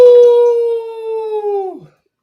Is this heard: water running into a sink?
no